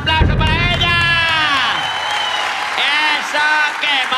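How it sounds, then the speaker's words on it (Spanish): A studio audience at a live variety show breaks into loud, steady applause with a few whoops and cheers, close and dense, while a host's voice rings out over it. "¡Un aplauso para ella!"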